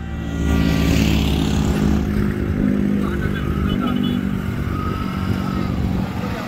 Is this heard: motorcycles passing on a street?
yes